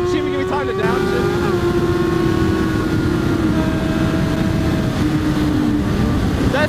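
A motorcycle roars past at roughly 150 mph, a loud, sustained engine whine with a falling pitch as it flies by close to the rider on a road, heard alone.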